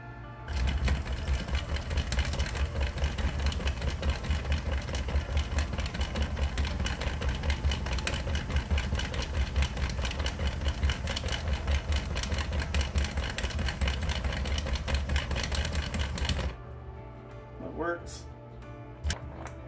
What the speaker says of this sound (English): at least tell me if the motor has enough power